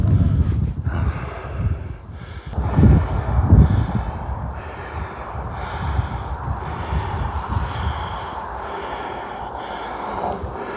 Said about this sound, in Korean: 고지에 올라오니까 아 바람이 굉장히 불네요